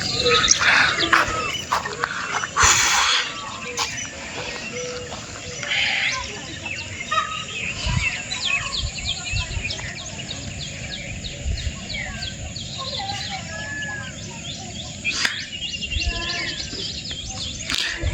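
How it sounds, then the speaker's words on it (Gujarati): Peacock calling outdoors on a fresh rural morning among green farm fields, with repeated calls carrying over a steady chorus of other birds and breezy ambient noise. "પીકોક મોર"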